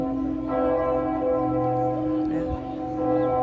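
Church bells ringing in Ulm, Germany, loud and close, with sustained resonant tolling and a humming overlap of tones that carries through the whole stretch.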